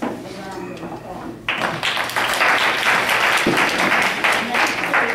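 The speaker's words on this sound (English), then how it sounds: "we want you to give yourselves a round of applause." An audience at an adoptive family of the year event breaks into a round of applause, starting lightly then swelling into loud, sustained clapping from a crowd, with some voices underneath.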